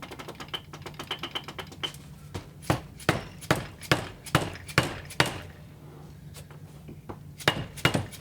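Rapid series of sharp hammer taps on a bearing in a Dana 300 transfer case, quick and light at first, then heavier, spaced blows; close and clear with no talking.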